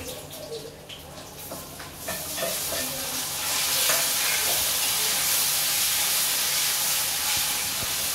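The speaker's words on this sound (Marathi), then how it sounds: "बटाट्याला चांगले तेलामध्ये फ्राय करते, परतते" Potatoes frying and being stirred in oil in a home kitchen, a loud steady sizzle that swells after the first couple of seconds, with scraping stirs and light clinks over it.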